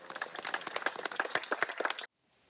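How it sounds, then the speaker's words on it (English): Applause breaks out at a firefighters' ceremony honouring a fire officer who stopped a blaze in the Calanques, a dense burst of clapping that runs steadily for about two seconds and then cuts off abruptly. "I think you deserve to be applauded."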